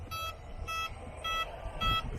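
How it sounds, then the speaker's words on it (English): Electronics on a Traxxas M41 RC boat give a run of evenly spaced, bright electronic beeps, about four of them visible here, sounding close and clear over a low, steady background rumble. "You hear all them 6 beeps?"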